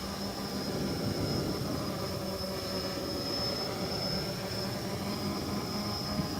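A Texas Box quadcopter drone on its maiden flight after a rebuild, running at a little under half throttle, produces a constant high-pitched motor and propeller whine with a steady broadband hum, close and unbroken.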